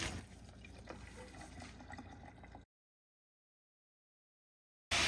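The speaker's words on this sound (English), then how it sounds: "we're going to strain our pasta." Pasta is strained, its cooking water gushing steadily into a sink for a couple of seconds before an abrupt cut to silence and a brief loud burst at the end.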